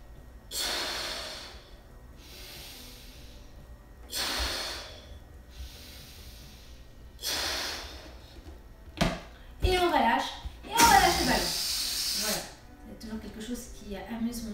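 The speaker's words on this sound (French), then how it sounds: "On inspire par le nez." Slow, deliberate inhalations through the nose during a seated gym exercise for seniors: several long, soft airy sniffs spaced a couple of seconds apart, close up, with a person speaking toward the end.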